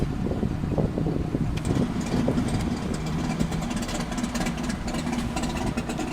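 A Chevrolet Camaro rolls into a Cars & Coffee show with a low, rumbling engine idle that gets stronger as it draws near, heard from inside a car over wind buffeting.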